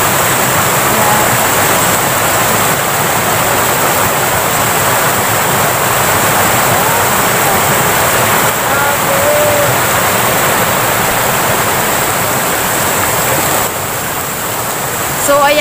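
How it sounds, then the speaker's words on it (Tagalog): Floodwater rushing through a small rural stream after heavy rain, a loud continuous broadband roar filling the whole stretch with little change, close by. "So, ayan, nakatawid na po tayo dito sa ayan po yung baha, oh. Ayan yung sapa namin dito na maliit."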